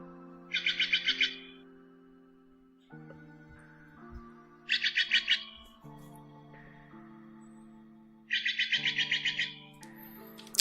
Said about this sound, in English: Stellar Jays? I love these birds.